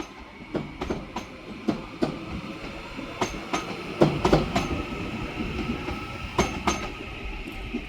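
A Class 397 TransPennine Express electric train pulls out of Manchester Piccadilly, with wheels clattering in a rhythmic series of sharp clacks over rail joints beneath a low rolling hum.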